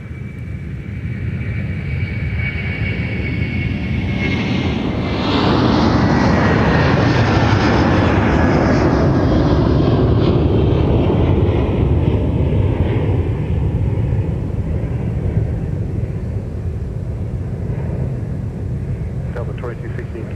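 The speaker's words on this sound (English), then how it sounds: "Here's our departure to Dublin with the A330-200." An Airbus A330-200 jet departing Minneapolis-St Paul airport for Dublin, its engines swelling into a loud, sustained roar that peaks midway and then slowly recedes.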